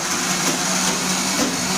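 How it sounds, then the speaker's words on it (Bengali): A mixer grinder with a small jar grinding nuts into paste, a loud, steady close-up motor whine that runs unbroken throughout. "মিক্সিতে বাদাম পেটা হচ্ছে"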